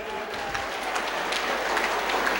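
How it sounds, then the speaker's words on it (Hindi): An audience at a school cultural event applauds for the principal, a dense, continuous burst of clapping from a crowd, close and fairly loud for a couple of seconds. "एक बार राकेश सर के लिए भी हो जाए तालियां"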